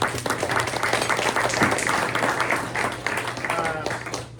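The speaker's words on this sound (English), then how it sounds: "Let's give them a round of applause." A room full of people at a press luncheon claps steadily, a dense wash of applause sustained throughout, with some voices mixed in beneath it.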